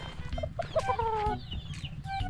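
A fighting rooster clucks close by, a short series of clear, clipped clucks and a brief drawn-out call over a low background rumble, lasting only a couple of seconds with no speech.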